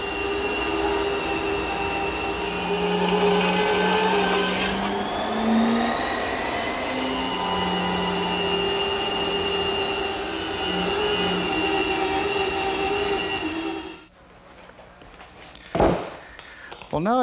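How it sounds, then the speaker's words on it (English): Large resaw band saw with a very wide, coarse carbide-tipped blade cutting through wood for table leg blanks, a steady loud whirring drone with the cut tone shifting midway, then cutting off abruptly near the end. "I'm going to use my resaw, which is just a large band saw with a very wide blade, coarse teeth with carbide tips"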